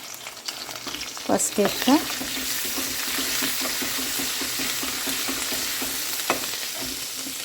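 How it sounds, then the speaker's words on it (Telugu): Caraway seeds, cloves, cinnamon and ginger-garlic paste frying in a pan give a steady soft sizzle throughout, with a couple of sharper clinks of a spoon stirring early on and a voice briefly speaking over it. "సాజీరా, లవంగాలు, దాల్చిన చెక్క ఇవన్నీ వేసిన తర్వాత ఇక ఫ్రై అవుతున్నాయి."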